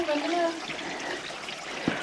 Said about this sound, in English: it's still running water